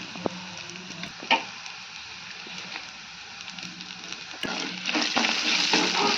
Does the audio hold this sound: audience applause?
no